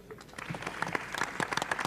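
Audience at a panel debate on seed intellectual property regulation breaking into applause, a brisk patter of many clapping hands building from soft to fuller and sustained, close and lively.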